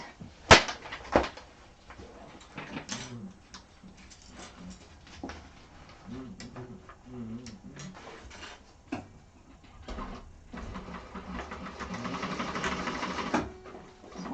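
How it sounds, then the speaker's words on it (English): A sewing machine runs in short bursts while basting quilt corners, rapid mechanical stitching whirs separated by pauses and small clicks and handling noises nearby. "I'm just going to go baste them here pretty quick"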